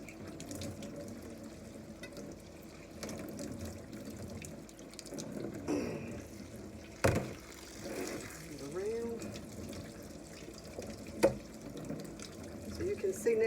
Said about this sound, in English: we're going to run some cold water over that and get this mess off of them